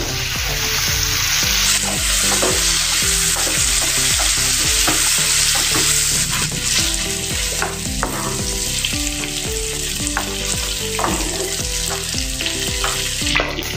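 Ridge gourd (turai) frying in oil in a pan, a loud continuous sizzle with rhythmic scraping of a spatula stirring throughout.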